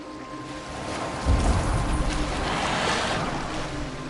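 A boat moving across open water in Assassin's Creed Valhalla, with a steady wash of waves and wind, a low rumble swelling briefly near the middle, and no voices.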